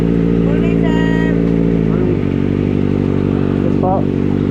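A motorcycle engine idles loudly and steadily up close, a constant rumbling drone, with a voice briefly heard over it.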